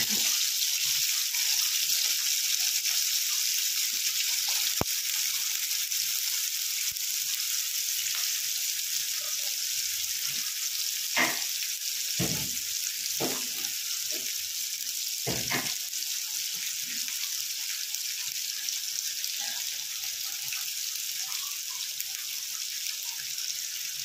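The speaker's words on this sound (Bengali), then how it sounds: "আমি এটা একটুখানি নাড়িয়ে চাড়িয়ে নেবো, একটু টস করে নেবো তেলের মধ্যে" Food fries and sizzles steadily in oil in a hot kadai over a lowered flame, a constant hiss with a few brief scraping stir sounds partway through.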